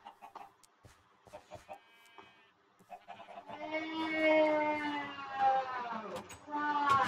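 A baby duck hatches in a Minecraft modpack, giving a few soft clucking, quacking calls among bright harmonic bird chirps, with game sounds and brief talk around them.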